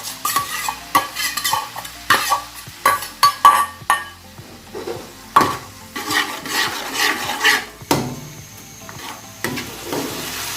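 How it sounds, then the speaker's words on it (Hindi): Tomatoes frying and being stirred with spices in a pan for beef pulao, with repeated scraping stirs of a spoon against the pan over a steady close sizzle, and occasional clinks of metal. "मसालों को अच्छा सा भूनने के बाद अब हम इसमें टमाटर डाल देंगे।"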